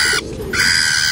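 A cheap caged pigeon gives a short, soft coo that lasts about a second, set against a steady high hiss of background noise.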